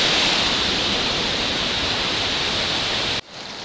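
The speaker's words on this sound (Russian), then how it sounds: "Такой водопадик красного цвета, прям камни, привлек мое внимание." A small red-coloured waterfall over stones in Kintrishi National Park, in the mountains of Adjara, Georgia, gives a loud, steady broadband rush that fills the whole clip and drops away abruptly near the end.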